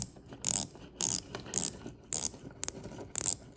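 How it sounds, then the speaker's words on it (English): A wristwatch bezel being turned, giving about six crisp, close ratcheting clicks at roughly even intervals against a quiet background. "Let's hear the bezel. Actually, the bezel action is very good."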